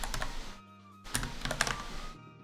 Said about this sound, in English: I'm just typing in values